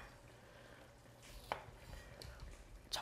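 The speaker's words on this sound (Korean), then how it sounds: "한 입 크기로 썰어주세요" A knife cuts cooked wine-braised pork belly into bite-size pieces on a board, giving a few soft, irregular taps and thuds against a quiet kitchen background.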